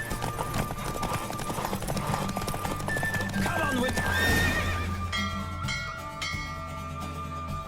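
Horse galloping during a race in The Witcher 3, steady hoofbeats with snorts and whinnies over dense game music and effects, loud and continuous throughout.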